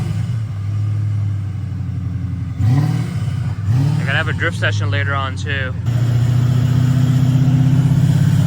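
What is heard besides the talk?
Ford Mustang RTR drift car engine revving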